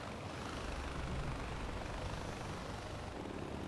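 A helicopter in the video game Far Cry 4 hovers in place before landing. Its rotor and engine make a steady, dense droning roar at moderate level, unbroken for the whole stretch, with no talk over it.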